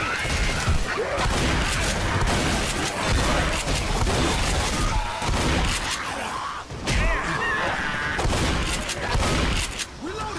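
Shotgun blasts from the zombie shooter Left 4 Dead, loud and dense with chaotic combat noise, crashes and booms throughout, with voices talking under the gunfire.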